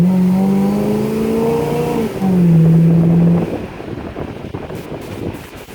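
A 1986 Oldsmobile Cutlass Supreme Brougham with a Quadrajet carburetor revving while driving, the engine note rising and shifting in two strong pulls, then settling under heavy wind rush and road noise.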